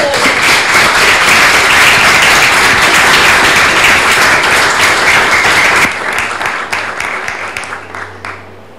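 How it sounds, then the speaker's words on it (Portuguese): Audience applause at a debate on housing and gentrification: a loud, full round of clapping that holds for about six seconds, then thins into scattered, fading claps. "E pedir uma salva de palmas aí."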